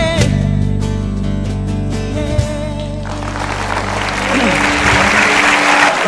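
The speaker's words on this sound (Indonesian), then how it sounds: "tepuk tangan sekali lagi untuk Andi F. Maya dan juga Kick Andy" Studio audience applause at the Kick Andy eighth-anniversary show, swelling in about halfway through as music fades, then continuing as a broad, even clapping wash.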